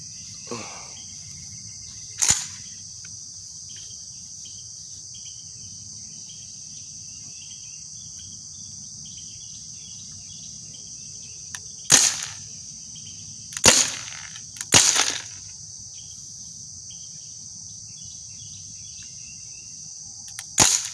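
Air gun shots crack out alone over a steady background of insect chirping, one isolated shot early, then a cluster of three close together and a final one at the end.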